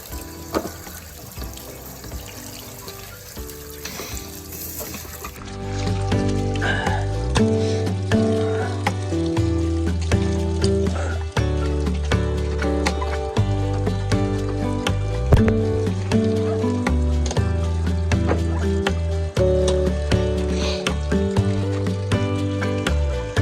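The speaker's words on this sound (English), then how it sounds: "See all this white sediment right here. It's all flushing out." Water gushes steadily out of an RV hot water tank as white sediment is flushed through, a strong continuous splashing rush that begins softer and turns loud and full after a few seconds, with no talk.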